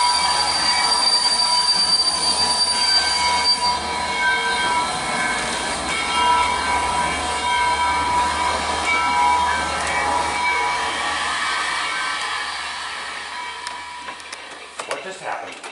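A train rumbles past nearby with a steady roar and high metallic wheel squeal, then gradually fades as it moves away.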